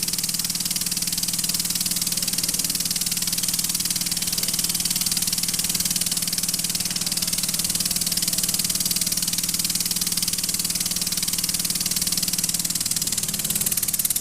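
A homemade steam engine, built cheaply, runs steadily with a continuous mechanical hum and hiss of escaping steam, close and constant throughout with no speech.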